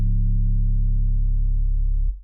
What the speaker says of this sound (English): on this 808 sample, which sounds like this